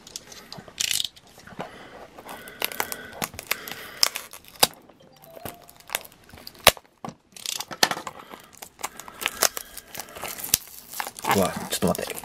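Plastic and cardboard packaging of a Takara Tomy Premium Tomica die-cast minicar crinkles and rustles, with irregular crisp crackles, taps and tearing sounds close up over about twelve seconds.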